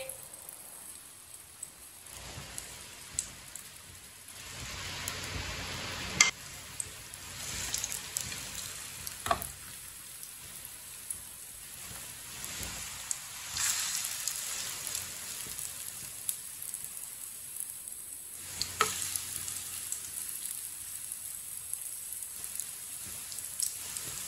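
Spoonfuls of paste for a quick, low-cost breakfast sizzle steadily in a frying pan, a soft continuous hiss with brief scrapes and clinks from the spoon as more portions are added.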